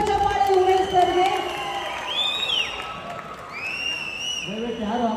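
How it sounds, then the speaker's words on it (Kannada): An audience claps and cheers for Umesh at a Kannada film event, with steady applause and a few rising whoops and shouts across the clip. "ದಯವಿಟ್ಟು ಮೊದಲನೇ ಜೋರಾದ ಚಪ್ಪಾಳೆ ಉಮೇಶ್ ಸರ್ಗೆ"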